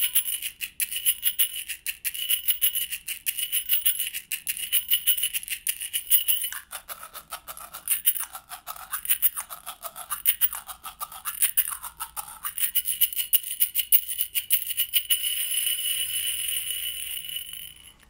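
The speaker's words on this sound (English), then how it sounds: "those are your exotic and unusual shakers for this session" Exotic, unusual hand shakers played as percussion texture, giving continuous bright, dense rattling and shimmering for the whole stretch, with rhythmic pulses and a brief wavering swirl partway through, close and fairly loud with no talking.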